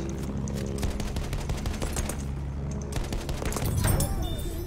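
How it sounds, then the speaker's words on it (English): Sustained video game gunfire rattles throughout a multiplayer match, with rapid bursts and overlapping shots from nearby and distant weapons, loudest toward the end. "Somebody out there shooting his heart out"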